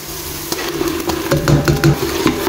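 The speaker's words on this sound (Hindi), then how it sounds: "आतां घालून न्ही हेका बरो फ्राय करूंक जाय." Masala paste frying in oil and a little ghee with onions, stirred in a pan, with a low sizzle and several clinking utensil taps close by.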